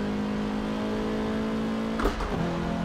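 A car in Forza Motorsport 7 driving in first-person view, its steady engine drone holding a constant pitch, with a brief shift or rev change near the end.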